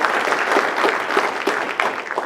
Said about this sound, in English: So big round of applause to that board of